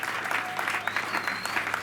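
A crowd at an APC party political rally bursts into dense, continuous applause, loud and close, with cheering voices mixed in throughout.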